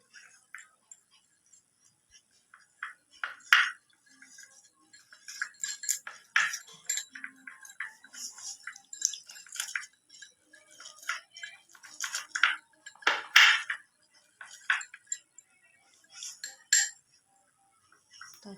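A spoon scrapes and clinks against a bowl while dry chatpati ingredients are mixed by hand, producing irregular ticking clatter that runs close and fairly quiet, with brief gaps between strokes.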